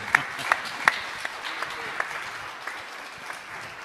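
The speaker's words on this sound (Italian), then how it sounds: "Un applauso per Marino." Scattered clapping at a Bologna food event, with a few sharp claps standing out, moderately loud and continuing steadily without voices.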